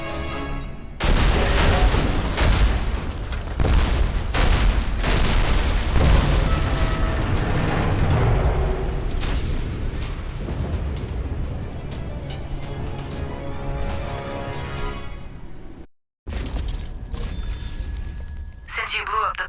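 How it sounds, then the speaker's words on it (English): A pumping station is blown up in the sci-fi shooter Alien Rage, with heavy booms and rolling blasts followed by rumbling debris that gradually fades. A short cut comes near the end. "Since you blew up the pumping station corridors"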